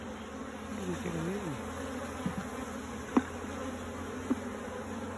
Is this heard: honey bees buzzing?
yes